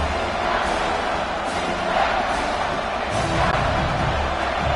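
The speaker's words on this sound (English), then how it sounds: "This crowd knows they have to bring it in big moments, and one of those has arrived." A stadium crowd in a college football video game, Michigan at Michigan State, roars as a dense, sustained wall of noise with swelling cheers, loud and continuous throughout.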